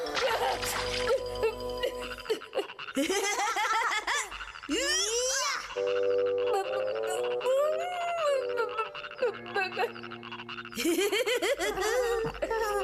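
Cartoon frogs croak in exaggerated, bouncy tones, mixed with giggles and playful voices, loud and continuous.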